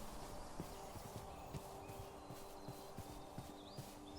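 Steady hoof clip-clops from a Minecraft horse tap in an even walking rhythm over a constant soft background hum, faint and without talk.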